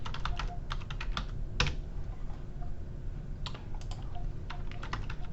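Fingers type on a computer keyboard, with quick irregular clusters of close key clicks and brief pauses between them over steady room noise.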